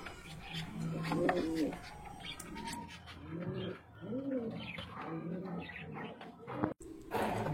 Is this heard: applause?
no